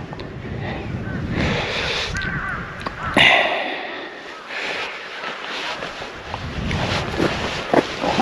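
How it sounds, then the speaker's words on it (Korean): Dozens of crows caw over remote mountain farmland in Gimcheon's Jirye-myeon, with scattered calls at middle distance mixed into heavy wind rumble on the microphone. "저 까마귀 봐."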